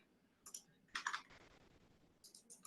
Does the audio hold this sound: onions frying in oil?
no